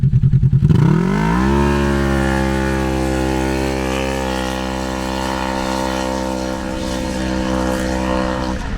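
A Polaris RZR XP 1000 UTV's engine idles with a pulsing rumble, then, in four-wheel drive high with open exhaust, revs sharply from a dead stop and holds a loud, steady high-pitched drone as it accelerates away.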